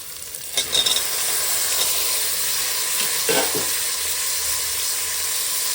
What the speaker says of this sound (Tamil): புதினா நல்லா வதங்கிடுச்சு இது கூட வந்து நான் கட் பண்ணி வச்சுருக்கேன் தக்காளி போட்டுக்கிறேன்